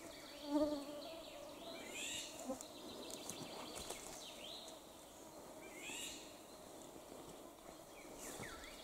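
Mosquitoes whine and buzz around a small pond of about 0.6 hectares, a thin, wavering drone that rises and fades as insects pass close, with quiet outdoor background and no speech.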